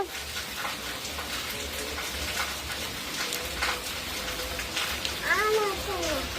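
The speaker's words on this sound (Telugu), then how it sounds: "వానొస్తుంది" Steady rain falls outdoors as a broadband hiss with scattered drops throughout, and a voice rises briefly near the end.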